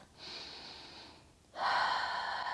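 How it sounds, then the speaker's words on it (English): A deep breath taken during a hip flexor stretch: a soft, airy inhale lasting about a second, a brief pause, then a stronger, louder breathy exhale, close and alone. "One more deep breath."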